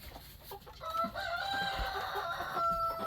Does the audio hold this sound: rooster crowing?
yes